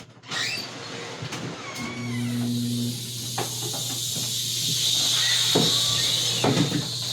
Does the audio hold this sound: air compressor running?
yes